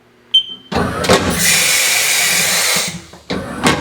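Haas CNC machine moving to the next tool, a short click followed by a loud whirring mechanical motion lasting about two seconds, then a brief clunk, close and without talk.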